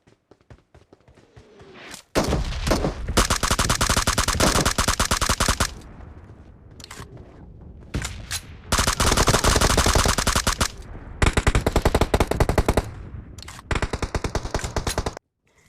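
Rapid automatic gunfire from a shooter video game sounds in long, loud bursts, with short pauses between volleys and no talking.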